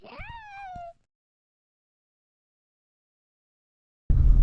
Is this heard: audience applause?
no